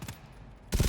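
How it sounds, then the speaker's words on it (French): Machine gun fire in the co-op shooter game GTFO, a loud burst of automatic gunfire breaking out at the end after a quieter stretch. "La mitrailleuse là pour ce genre de mission, c'est du caviar"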